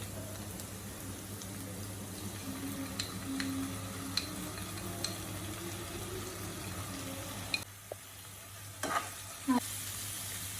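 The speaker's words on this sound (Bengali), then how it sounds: "লবণটা দিয়ে একটু নাড়াচাড়া করে একটু রসুন বাটা জিরা বাটা আদা বাটা দিয়ে দেবো" Prawn malaikari frying in a pan as salt, garlic paste, cumin paste and ginger paste go in, giving a steady close sizzle with a low hum beneath and occasional scrapes and clinks of stirring.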